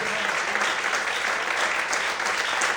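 A congregation at an evening church service applauds in praise, steady dense clapping from a crowd throughout the short stretch.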